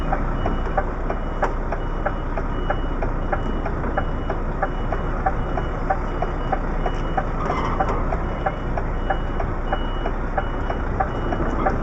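An HGV C+E articulated lorry reverses with a steady, evenly spaced electronic beep over its loud, continuous idling diesel engine.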